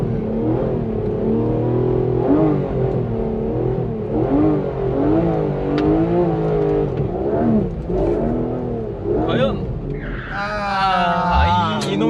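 Sports car engine revving hard during a drift test on a dry surface, a loud continuous roar with wavering pitch from rapid throttle changes, plus a brief tyre squeal near the end.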